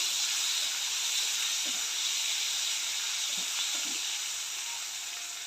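Shark fish frying in a pan of hot oil, a steady broad sizzle and hiss throughout, with a few soft low knocks as the pieces are turned, easing slightly toward the end.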